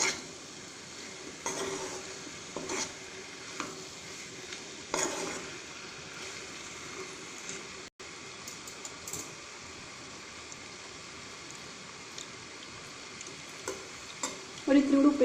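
A quick mango pickle stirred in a hot pan gives a continuous soft sizzle, with a utensil repeatedly scraping and clinking against the pan at an unhurried pace.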